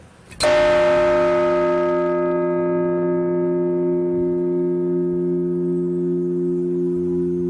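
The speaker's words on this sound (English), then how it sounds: "we're going to hear this wonderful bell and the aftertone" A large lighthouse bell is struck once, loud and close, then its rich humming tones sustain and slowly fade over several seconds.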